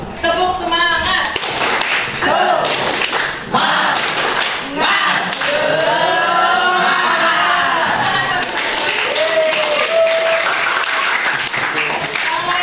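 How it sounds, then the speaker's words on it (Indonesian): A group of participants in a teachers' training session does a spirit clap together, dense rhythmic clapping mixed with voices chanting and talking, loud and close, running throughout. "tepuk semangat dulu. Tepuk semangat."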